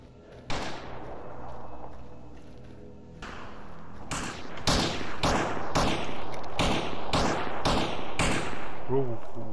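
Gunfire in the S.T.A.L.K.E.R. Anomaly mod game: after an opening burst, a run of loud, sharp shots repeats at a steady pace over a dense background din, with a brief voice-like warble near the end.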